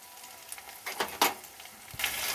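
Spices for a prawn malai curry, including Kashmiri chili powder, turmeric and salt, fry in hot oil in a pan: a faint, soft sizzle broken by a few brief stirring scrapes.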